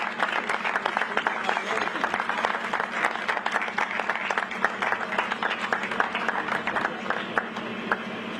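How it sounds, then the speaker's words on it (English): Audience applause at an outdoor Juneteenth flag raising ceremony, a dense steady patter of many hands clapping that holds evenly for several seconds with a low constant hum beneath. "Everyone stand up and give Michelle a round of applause."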